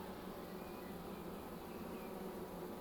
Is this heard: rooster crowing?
no